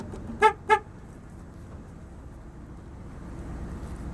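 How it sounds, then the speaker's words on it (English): Two short car horn honks in quick succession, fairly loud, followed by a low steady engine rumble. "Do I have to honk the horn?"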